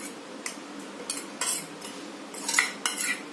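Spoon clinking against a bowl while chili powder, salt, turmeric, coriander and cumin are stirred into wheat flour, a series of short bright taps in an irregular rhythm, close and fairly quiet.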